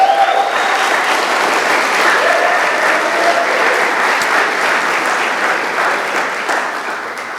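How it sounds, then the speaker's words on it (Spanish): A church congregation breaks into loud, sustained applause filling an auditorium, dense clapping from many hands that holds steady and then begins to fade slightly toward the end. "apláudanle mucho mejor, por favor."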